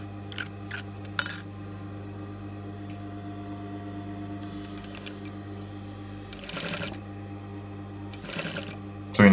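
A sewing machine stitches a hair extension weft in short, separate bursts of fast mechanical clatter over a constant low motor hum.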